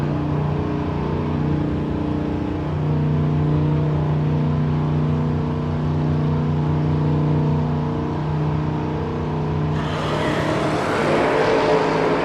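A big yellow Camaro drag race car making its run, a loud sustained engine roar with strong harmonic whine holding steady before a sudden harsher, broader blast near the end as it passes.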